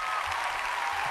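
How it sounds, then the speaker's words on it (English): An audience gives a brief, continuous round of applause at the close of a gold leaf and gold paint demonstration, heard as a dense, even patter of clapping. "And a big round of applause."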